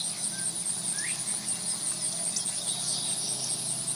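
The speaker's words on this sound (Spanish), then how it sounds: "uno con un ambiente de grillos y algunas aves" Steady chorus of crickets chirring continuously, with a couple of faint bird calls in the background.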